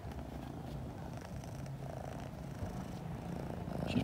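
A cat purring close by, a steady low rumbling purr running continuously and quietly alone, with no talking over it.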